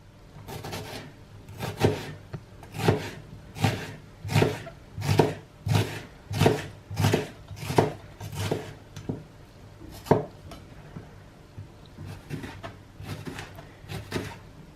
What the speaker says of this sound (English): I'm going to finely chop these onions